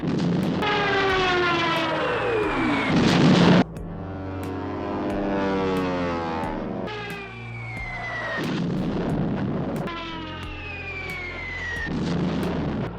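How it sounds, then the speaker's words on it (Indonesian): Stuka dive bomber engines roar with rising and falling siren whines in repeated waves during a raid on London, punctuated by sharp bursts of gunfire, loud and close. "Dan secara liar menjatuhkan bom-bom mereka dengan raung sirine yang memekakkan telinga."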